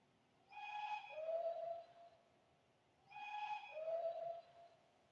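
A two-note locomotive whistle sounds twice, each blast about two seconds long with a pause between, fairly faint and otherwise quiet.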